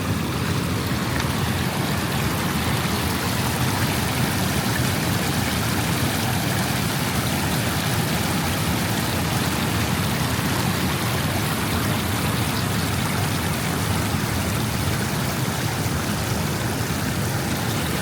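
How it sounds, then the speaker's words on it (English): Small creek near Cape Kiwanda on the Oregon coast, flowing as a steady, dense rushing wash that stays constant and close throughout with no talking. "There's a little creek over here."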